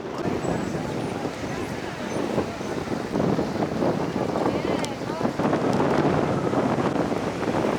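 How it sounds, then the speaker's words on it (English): Strong wind blows by a lake, a continuous low rumbling buffet against the microphone that grows slightly louder toward the end, with voices faint beneath it. "It's very windy."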